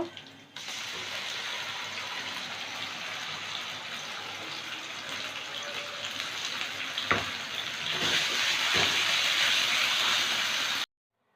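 Mashed bottle gourd leaf paste hits a pan of hot oil with green chillies and garlic, giving a steady broad sizzle that swells louder toward the end, with a few sharp clinks partway through.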